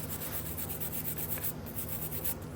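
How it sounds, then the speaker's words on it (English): A brush scrubs rust off the brake caliper bracket during a rear brake job on a 2011–2015 Kia Optima or Hyundai Sonata, making a steady, close, rhythmic rasping rub with quick back-and-forth strokes. "I'm just gonna try and get off some of that rust that's on there."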